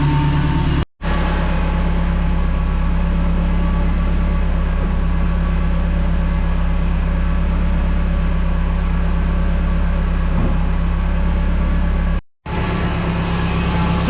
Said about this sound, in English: I just want to see if it'll hit the limiter just once